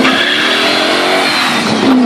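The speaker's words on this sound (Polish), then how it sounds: "Audi Quattro, sportowa złość." An Audi Quattro rally car with a 300 hp engine races past close by, its engine revving hard and loud in one continuous rasping burst with no voices.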